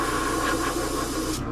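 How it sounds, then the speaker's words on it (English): A steady, close hiss of an airbrush spraying ultramarine blue paint on a fishing lure runs continuously, then cuts off abruptly near the end. "let me just make sure this is spraying okay"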